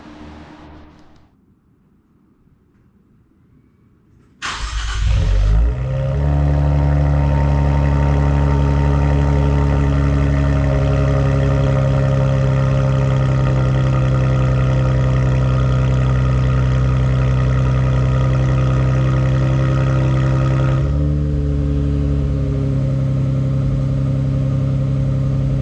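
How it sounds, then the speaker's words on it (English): A 2024 Nissan Z Nismo fitted with a catback exhaust fires up from cold after a quiet pause, a loud starter-catch flare settling into a deep, steady high idle that drops slightly in pitch later on, with no talking. "we'll do a cold start"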